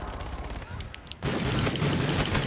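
Gunfire in Call of Duty Infinite Warfare, a Neon team deathmatch with dual-wielded weapons, a quieter stretch of scattered shots before a sudden burst of loud, dense rapid fire.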